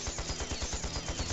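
Rapid gunfire rattles through a shootout in the video game Trails to Azure, a steady string of regular shots at moderate loudness with no voices over it.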